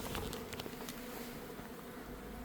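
Bees buzz steadily around a small hive of a few hundred bees, a close, continuous droning hum with brief louder passes as individuals fly near.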